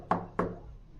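Two quick, firm knocks land on a door about a third of a second apart, fairly faint and followed by quiet room tone, with no talking.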